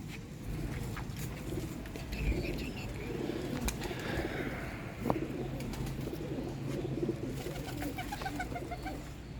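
Rare Sialkoti rooftop pigeons coo softly and repeatedly at moderate distance over a steady rustling background, with occasional wing flutters and a brief sharper knock partway through.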